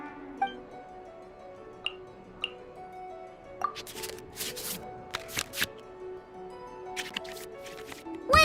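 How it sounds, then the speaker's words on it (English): Game-style card shuffling in the Genius Invocation TCG video game: a run of soft, quick papery flicks and swishes mixed with small chimes and clicks, fairly quiet and with no talking. "we can select any number of cards in our hand to shuffle back into the draw pile"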